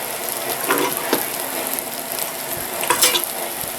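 Onions, mushroom and garlic fry in a pan on a renovated Optimus 111 stove, a steady close sizzle broken by a few scraping stirs.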